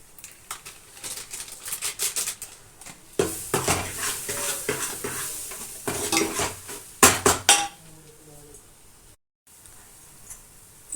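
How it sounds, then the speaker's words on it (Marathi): Chole masala with onion-garlic spice mix and turmeric being sautéed in a pan: loud, irregular metal clanks and scrapes of a utensil against the pan come in bursts, with a brief silent gap near the end. "याला एक चार ते पाच मिनिट चांगलं परतून घ्यायचं"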